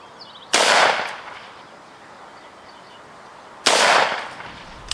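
Two loud, sharp .223 rifle shots fired into a deep penetration test, comparing Hornady SPIRE tips with Winchester Deer Season XP bullets; each crack is followed by a long decaying echo, with a quiet gap of about three seconds between them.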